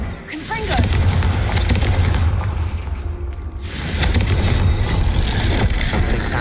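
Confringo spell blasts in Hogwarts Legacy produce booming explosions under a continuous rumbling game soundtrack, loud and sustained with a brief dip midway; a voice calls out over it.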